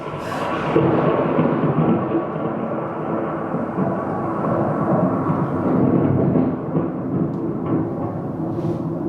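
Thunderstorm with a deep continuous rolling rumble of thunder, loud and sustained throughout, with no voices over it.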